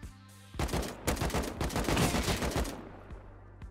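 Shotgun fire in the game Rust, a rapid run of loud close blasts over about two seconds, then fading into quieter background noise with a last faint shot.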